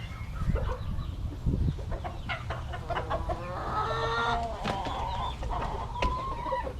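A rooster back in its coop clucks and chatters in short, repeated bursts, close and fairly loud, with other hens murmuring nearby and some scuffling in the background.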